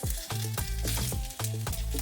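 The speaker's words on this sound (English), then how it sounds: "flip the quesadilla, keep the stuffing inside" A crispy cheese quesadilla is flipped in a frying pan and keeps sizzling, with a few soft knocks and scrapes of a spatula against the pan coming at a steady rhythm, close and moderately loud.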